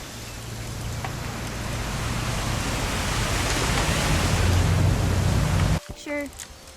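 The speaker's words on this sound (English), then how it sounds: "It's gonna rain the whole weekend, isn't it?" In What Remains of Edith Finch, heavy rain roars as a broad, rushing hiss that slowly swells louder, then cuts off abruptly near the end, where a voice briefly speaks.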